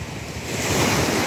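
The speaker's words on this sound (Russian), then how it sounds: "Шумит море, шумит Адриатика." Adriatic Sea surf washes onto the beach at Bibione, Italy, a broad, steady rush of breaking waves that swells slightly louder, mixed with wind buffeting the microphone.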